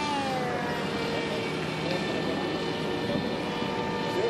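Model airplane drone with a steady whine and harmonic tones drifting overhead at a group flying session, continuous and fairly loud for the whole stretch, with no talk heard.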